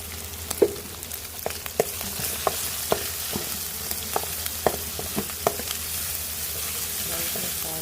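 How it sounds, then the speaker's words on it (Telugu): Ginger-garlic paste with green chilli and onion paste fries in a pan, a steady sizzle broken by a string of sharp clinks and scrapes from stirring, close and with no voice over it. "అల్లం వెల్లుల్లి పేస్ట్, పచ్చిమిర్చి, ఉల్లిగడ్డ పేస్ట్. బాగా పచ్చి వాసన పోయేంత వరకు ఫ్రై చేసుకున్నాం."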